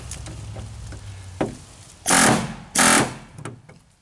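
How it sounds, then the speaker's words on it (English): Rivets are punched into a roof and rail build with a tool: a few light taps are followed by two loud, harsh, sustained bursts close by, then quieter knocking. "I'm gonna punch these rivets in."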